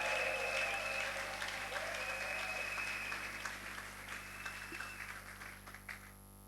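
A church congregation applauds and cheers the Lord during an evening service, making a sustained wash of clapping that fades gradually, with a voice speaking over it.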